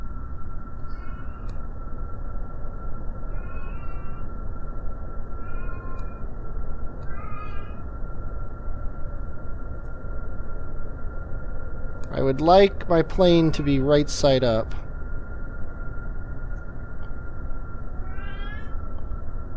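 A pet cat meows several times, short high calls spaced through the stretch, with a louder, longer run of meows in the middle, over a steady hum while someone talks.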